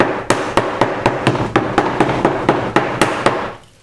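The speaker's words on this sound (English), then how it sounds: "this is the type of mallet that you use. It's a rubber mallet to close it" A rubber mallet taps a paint can lid shut in a quick, even series of about a dozen dull, loud thuds close up, ending abruptly.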